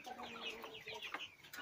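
Leghorn rooster about two years old, perched in a crowded henhouse, letting out a quick burst of faint clucking and chirping calls, close but quiet.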